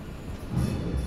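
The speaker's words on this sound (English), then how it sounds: "gotta be a train here." Train in the video game Alien Isolation, a low rumbling rail roll that swells slightly louder partway through, brief and fairly quiet.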